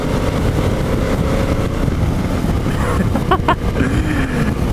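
A BMW F650GS motorcycle engine revs up as the rider twists the throttle in third gear, a steady broad roar blended with heavy wind buffeting on the microphone throughout.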